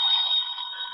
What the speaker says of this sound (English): pick that other phone off the hook, Dollar. That noise is killing me